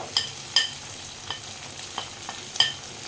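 Ginger frying in a pan for jackfruit kofta curry, a soft sizzle punctuated by several sharp clinks and scrapes of a spoon stirring against the pan at irregular intervals.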